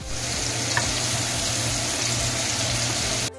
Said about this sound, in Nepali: अब एकछिन यसलाई एकछिन प्याजलाई फ्राई गरौँ